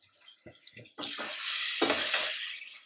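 Tomatoes simmering in a pan, a few soft clinks of a utensil giving way to a steady, close bubbling sizzle that holds to the end.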